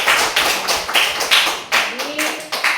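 A classroom group gives applause for a student group that has just presented, a few sharp claps spaced irregularly with loud, reverberant bursts, and no one talking.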